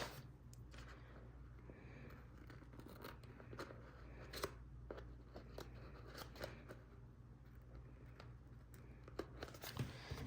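Scissors snipping through the edges of book pages for a glue-book collage, a run of close, crisp cuts with paper rustling and crinkling between them, quiet and steady with no talk.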